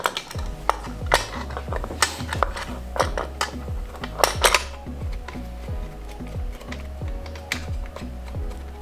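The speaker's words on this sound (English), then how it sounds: "you want to go ahead and grab your clutch cover and put that back on" Plastic chainsaw clutch cover fitted back over the bar and chain, a string of close clicks, knocks and small mechanical rattles at an uneven rhythm, louder in bursts then settling into lighter tapping, with no talk.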